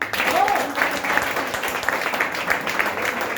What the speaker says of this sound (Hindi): एक बार वेस्टीज के लिए जोरदार तालियां